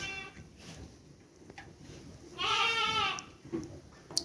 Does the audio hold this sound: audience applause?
no